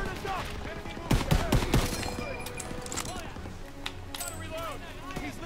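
Gunfire in the World War II shooter game Call of Duty WWII, a burst of several loud shots followed by scattered fainter shots, with voices talking under the battle noise.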